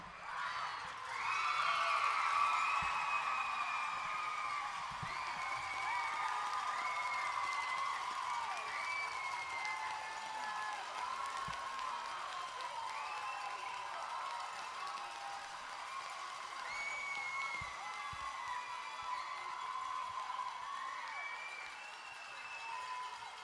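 Crowd at a youth U11 AA hockey league final cheering and applauding with shrill whistles and shouts, a sustained roar that stays fairly steady throughout, heard from a distance.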